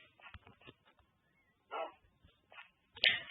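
A dog in a video game barks in short separate bursts over quiet stretches, a few sharp yips and woofs spaced apart, ending in one louder bark.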